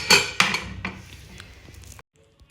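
Steel cooking pots, plates and pressure-cooker vessels are handled in a home kitchen, with two sharp metallic clanks followed by lighter clinks and rattles that fade into silence.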